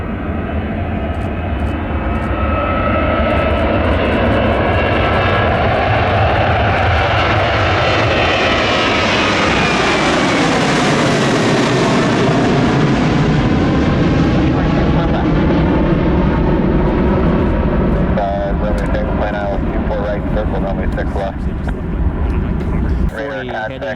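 A jet airliner takes off from runway 24 right with a loud continuous engine roar that swells, sweeps in pitch as it passes and fades away, while radio chatter runs underneath.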